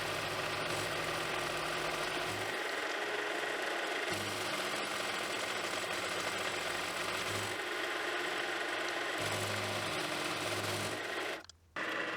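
A milling machine cuts a slot with a 12mm high-speed steel cutter, a steady machining whine and hum running continuously, with a low motor tone that shifts level at intervals before a brief drop near the end.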